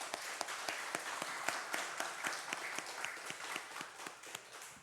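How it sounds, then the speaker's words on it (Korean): A church congregation applauds steadily during a Sunday service, many hands clapping at once in a dense, continuous patter with sharp individual claps standing out, fairly loud and without talk. "우리 서로 격려 박수 한번 해주십시다."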